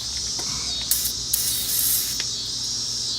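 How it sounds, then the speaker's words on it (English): PB Blaster penetrating oil is sprayed from an aerosol can onto connections on a Chevrolet Avalanche, giving a steady hiss with a few short bursts, close and fairly loud with no talk. "since I got the PB Blaster, I'm spraying everywhere where they connected it"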